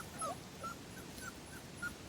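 Catahoula Cur puppies whimper and yip in short, thin cries, a few spaced high whines over about two seconds, faint against a quiet indoor background.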